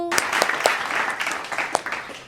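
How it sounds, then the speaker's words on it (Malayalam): Applause from an audience: a steady patter of many hands clapping close by, with a few sharper claps standing out. "സുഹൃത്തുക്കളെ കൈയടിക്കൂ"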